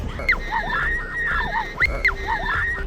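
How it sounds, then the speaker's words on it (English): Friends parasailing above sharks scream repeatedly, with high, rising and falling shrieks in several bursts over wind noise. "They started screaming,"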